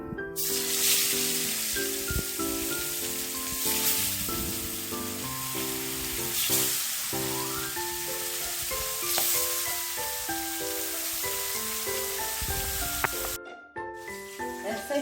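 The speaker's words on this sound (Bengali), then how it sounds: "কড়াইতে সর্ষের তেল দিয়ে দিয়েছি তেল ভালো করে গরম হয়ে গেছে আমি এখন মাছগুলো ভালো করে ভেজে নেব" Pomfret fish frying in hot mustard oil in a wok gives a steady, close sizzle throughout, partly buried under loud background music.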